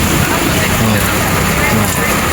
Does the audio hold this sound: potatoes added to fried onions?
no